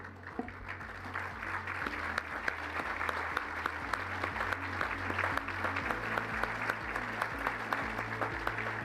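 Steady applause from a conference audience for visiting ministers at the closing ceremony of the 11th Our Ocean Conference in Kenya, a dense even wash of clapping that holds for the whole stretch, over a low hum in the hall.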